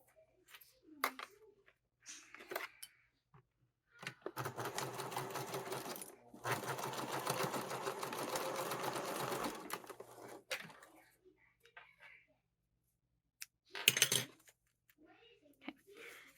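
A sewing machine stitching across a fabric sling bag runs in a steady burst of about six seconds, with shorter bursts and handling clicks around it, close up and alone.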